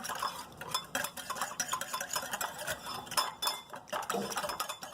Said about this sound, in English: we're going to just whisk that up in a bowl